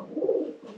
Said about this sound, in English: Yeah, there's pigeons.